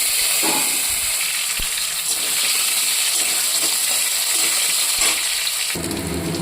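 Potatoes dropped into hot oil in a pan with dried red chilli tempering and fish pieces, a loud, steady hiss of sizzling with small crackles and pops, close up and without talk.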